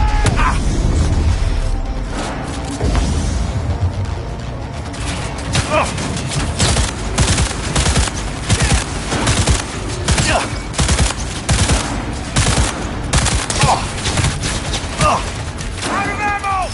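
Rapid repeated gunfire in Cyberpunk 2077, steady rhythmic bursts of loud shots across the whole stretch, with in-game voices and mechanical clanks mixed in.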